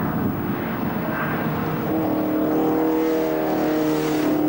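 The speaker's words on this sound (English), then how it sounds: "Here's the TVR Grand Tourer of Nicholas Lees on his first lap." A TVR Grand Tourer race car on its first lap at a Silverstone club race meeting, its engine a steady loud drone with a slowly rising pitch as it passes nearby, no speech over it.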